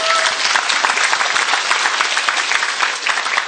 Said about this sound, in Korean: 되게 박수 한번 씩.